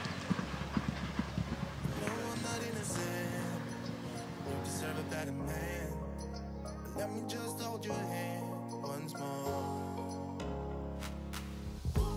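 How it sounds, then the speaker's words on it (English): Racehorses walking off after a gallop at a racing yard, hooves clip-clopping in a steady rhythm on hard ground close by, while a person talks over the sound. "These horses walking off after their gallop."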